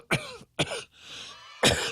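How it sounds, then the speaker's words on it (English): Three harsh, close coughs in quick succession, with short rasping breaths between them. "I can do my coughing at home"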